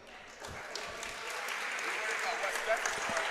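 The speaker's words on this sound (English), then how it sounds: "Gets a round of applause." Spectators at a girls' high school basketball game applaud an injured player as she gets up from a dangerous fall, a steady wash of clapping that swells gently and holds across the gym.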